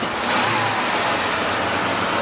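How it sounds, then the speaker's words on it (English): A car engine idles high and steady after sitting about a week, running smooth in neutral, a loud continuous broadband hum up close with no talk. "It's been sitting, so it idles a little high"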